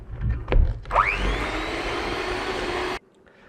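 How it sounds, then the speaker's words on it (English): Eggs whisked one at a time into Battenberg cake batter: a brief knock, then a bright mechanical whirring that starts abruptly, runs steady for about two seconds and cuts off. "And I'm just going to add these one at a time and then whisk them in."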